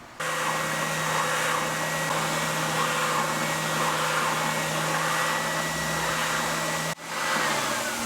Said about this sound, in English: Let me turn the vacuum on.